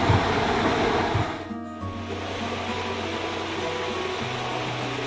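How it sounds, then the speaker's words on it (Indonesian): A water wheel turns in flowing water in a remote mountain forest, producing electricity; a steady broadband rush of water runs throughout, with a brief dip and a faint low mechanical hum underneath. "kincir air adalah jenis perangkat yang memanfaatkan air mengalir ataupun jatuh untuk menghasilkan tenaga"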